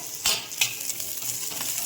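Onion roasting in a pan for a village-style drumstick masala paste, a short close sizzle broken by a couple of quick spatula scrapes.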